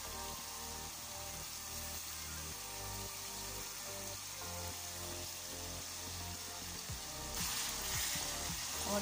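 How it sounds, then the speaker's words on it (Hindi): Spices frying with yogurt in a pan for an eggplant and potato curry, giving a continuous dense sizzle under a low steady hum, close and even, growing slightly louder toward the end. "और दही के साथ भी मसाले को अच्छी तरह से भून लेना है।"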